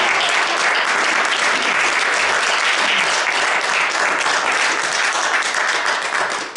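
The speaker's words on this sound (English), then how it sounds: "So all that applause is for you" Loud, dense audience applause at a holiday event, a continuous wash of many hands clapping at full volume that stops abruptly at the end.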